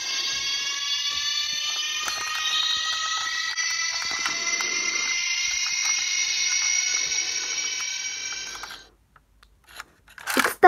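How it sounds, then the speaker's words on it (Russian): A toy model of a Sapsan high-speed train plays its electronic train sound, a steady high whine with rising tones for about nine seconds, then cuts out, followed by brief clicks of handling. "А это вот звук Сапсана."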